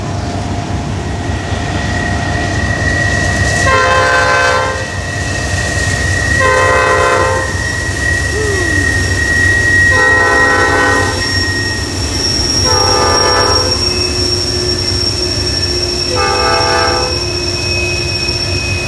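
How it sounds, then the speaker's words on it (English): A coal train climbing the hill at Horseshoe Curve, Pennsylvania, sounds its horn five times in regular long blasts over a steady rumble of engines and rolling cars. "here comes a train up the hill"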